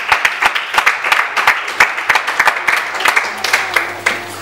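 A church congregation at a worship service applauds, producing steady, fairly close clapping from many hands with sharper individual claps standing out, and a low sustained tone in the background.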